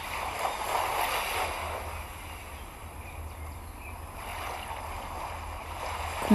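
Ocean waves wash softly onto a beach, a faint continuous swash with gentle surges, calm and alone with no voices.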